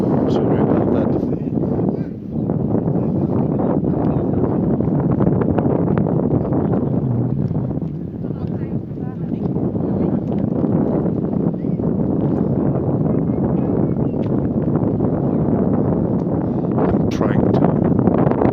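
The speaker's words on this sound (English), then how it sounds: "there's a lot of wind from the lake, so you might not hear me well" Strong wind off a lake buffeting the microphone on a summer day in Tampere, Finland, a loud continuous low rumble and roar that barely lets up, with a person talking under it.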